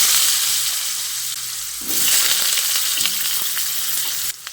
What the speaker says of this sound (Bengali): অল্প একটু নুন দিয়ে আলুগুলোকে ভেজে নিচ্ছি।